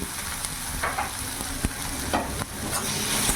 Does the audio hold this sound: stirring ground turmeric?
yes